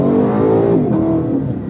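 Lexus LC 500 with its V8 engine accelerating hard over a short stretch, a loud, close, rising growl that swells and then eases off within under two seconds, with no talk over it.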